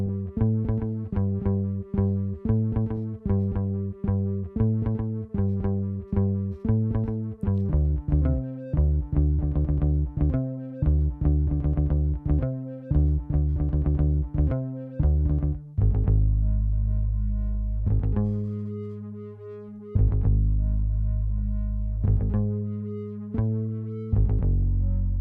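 Groovy bass line made more distorted by an Analog Lab effect, a steady run of punchy, gritty low notes in a repeating pattern that later moves into longer, heavier sustained tones, loud and alone with no voices.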